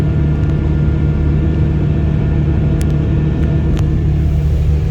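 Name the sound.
Fendt 1050 tractor engine pulling under load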